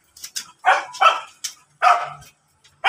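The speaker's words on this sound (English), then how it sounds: "We have a lot of dogs here." A dog barks several times in quick bursts, loud and close, with short high yips between the barks and brief silences separating them.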